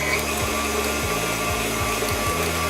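A stand mixer paddle beating whoopie pie batter: a steady, loud motor whir with a repeating rhythmic thump as the paddle turns through the thick mixture, close up.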